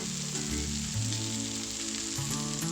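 Chopped vegetables (onion, carrot, cabbage, broccoli and capsicum) sauté for veg chow mein, giving a steady, close hiss and sizzle in the pan throughout, with soft background music underneath.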